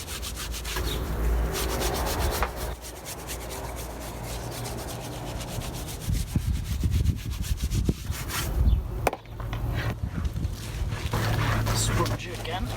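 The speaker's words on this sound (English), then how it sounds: "Give it a little scrub." A small brush scrubs a car wheel coated with spray wheel cleaner, giving a loud, steady, close rubbing and swishing that runs throughout with brief pauses.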